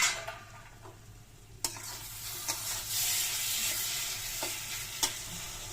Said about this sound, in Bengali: মশলা কষে গেছে অলমোস্ট।